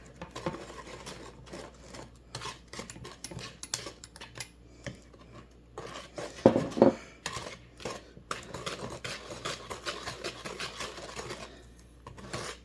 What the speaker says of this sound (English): And then we mix this all together